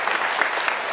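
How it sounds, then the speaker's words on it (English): A short burst of conference crowd applause at the AWE 2023 opening, many hands clapping together in a steady, fairly loud wash. "Give them a big round of applause."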